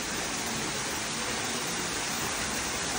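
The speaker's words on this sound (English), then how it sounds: "And you've got these cool waterfall features here." Decorative waterfall features at a coffee shop in Khaokho, Phetchabun, Thailand, give a steady, broadband rush of splashing water, constant and fairly close throughout with no talk.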